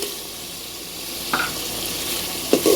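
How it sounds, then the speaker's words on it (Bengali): Small puti fish go into hot oil with spice masala, giving a constant close sizzle broken by sharp spits and a louder crackling burst near the end, with no speech. "এর মধ্যে এখন আমি মাছটা দিয়ে দেবো, পুঁটি মাছটা। এই যে পুঁটি মাছটা, এটা দিয়ে দিলাম।"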